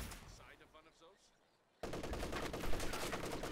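Sustained machine gun fire in a competitive video game match, a dense, loud burst of rapid shots starting midway after quieter battlefield ambience and continuing steadily to the end.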